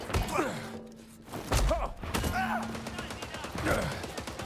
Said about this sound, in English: So I'm going to start getting shot at.